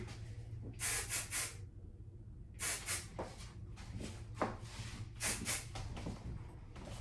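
Several short bursts of hairspray hiss in quick succession, close by, separated by brief pauses, over a faint background hum.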